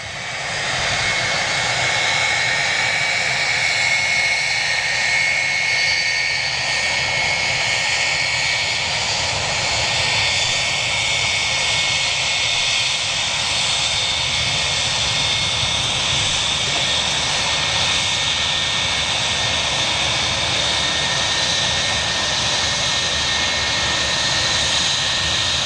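Jet engines of an Ilyushin airliner at Manchester International Airport roar steadily and loudly for the whole stretch, a sustained whine layered over a broad rumble with no pauses.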